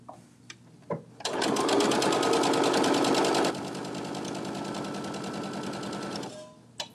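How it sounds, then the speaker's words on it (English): A sewing machine stitches a Sew Together Bag with the exterior side up, running close to the fabric edge. Its steady, rapid run is loud at first and then eases to a slightly quieter pace, with brief handling noises before it starts. "Okay, sewing with the exterior side up."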